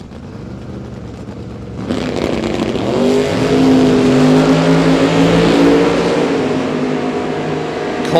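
Camaro Roadster and Malibu drag race cars launching at a bracket race, a quiet idle bursting into loud roaring acceleration after about two seconds, engines screaming steadily then easing near the end.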